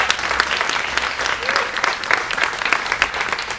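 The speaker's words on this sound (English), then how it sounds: "can we just get a round of applause for a teacher in the room?" An audience at a film festival live event applauds a teacher in the room, a dense and steady wash of many hands clapping at once, loud and continuous throughout.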